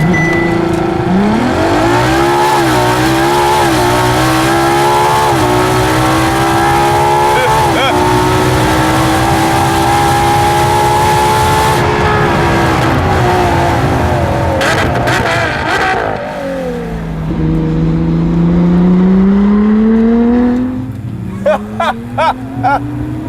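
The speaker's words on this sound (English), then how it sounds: "here's how you do a launch control run in a Ferrari LaFerrari" A 2015 Ferrari LaFerrari makes a launch control acceleration run, its engine rising loudly through the gears in long climbing sweeps, then easing off with lower tones and a few short clicks at the end.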